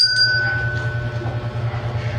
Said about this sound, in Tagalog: So when I ring the bell